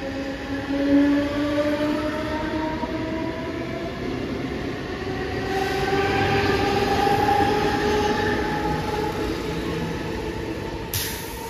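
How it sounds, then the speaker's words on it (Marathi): A fast Mumbai suburban train rumbles through Neral station without stopping, its steady roar swelling and easing, with rising tonal whines from the wheels and motors and a brief high squeal near the end. "एक जलद गाडी जाणार आहे"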